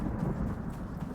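In the survival game Icarus, a storm produces a low, steady rumble of thunder mixed with a rain-like wash, continuous and fairly loud, with no speech.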